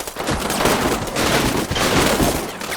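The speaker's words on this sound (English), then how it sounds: "Yeah, I think I hear more firing." Dense gunfire from a World War II battle in the Combat Mission Final Blitzkrieg strategy game, continuous overlapping rifle and machine-gun bursts crackling at middling distance with no talk.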